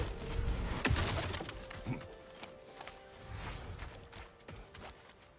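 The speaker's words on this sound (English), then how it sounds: "Ooh, there's a bird." Cooing bird call in a video game, heard over a busy ambient game soundscape with a few soft, scattered calls at moderate volume.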